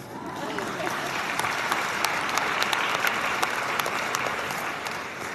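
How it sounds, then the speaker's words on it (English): A graduation ceremony audience breaks into applause after a speech, a sustained, even roar of many hands with sharper individual claps popping out near the front, continuing without a pause. "They deserve a round of applause."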